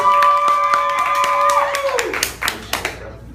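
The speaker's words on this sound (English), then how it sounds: "appreciate y'all for clapping for me" Audience clapping at a Writer's Block open-mic event in Orlando, scattered sharp hand claps joined by sustained tones that fade midway, the claps growing sparse and separate toward the end.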